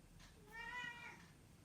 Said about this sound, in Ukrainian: Прийшла моя киця, вона м'явкає.